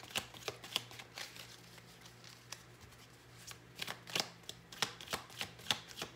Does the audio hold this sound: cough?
no